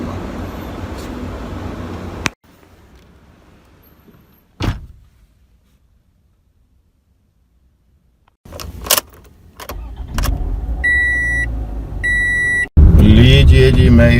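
A car arriving and hunting for a parking spot in a street, with door thuds, key jangles and repeated electronic beeps, a quiet stretch in between, then louder engine and road noise at the end.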